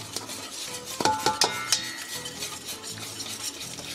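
Melted chocolate and cream whisked in a bowl, the whisk clinking against the sides in a quick run of close taps, then settling into a softer continuous stirring with a faint background hiss.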